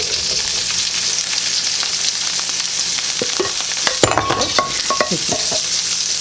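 Drained green beans going into a pan of browned garlic, hissing in a loud close sizzle, then scraping and clattering as they are stirred, with several sharp utensil knocks toward the end.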